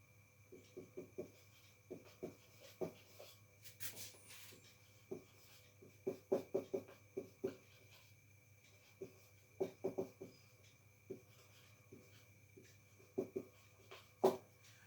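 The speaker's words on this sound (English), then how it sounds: "let me write the definition" A pen scratches and taps on a surface in short, irregular bursts of strokes while someone writes out a physics definition, quiet against a steady low hum, with no talking.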